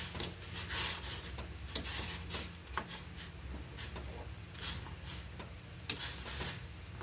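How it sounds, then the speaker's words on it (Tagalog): Kamyas (bilimbi) fruit is mashed in a pot of simmering fish, giving soft irregular tapping and rubbing knocks of the utensil against the pot over a faint bubbling background, with no talking. "durugin natin yung kanyang kamyas"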